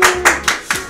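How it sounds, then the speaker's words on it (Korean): A few people clap briefly at an indoor gathering, four distinct loud claps in quick succession close by. "박수."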